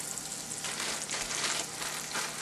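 Top sirloin beef browning in a pot, a steady close sizzle and crackle of frying meat with gentle surges in intensity and no voices.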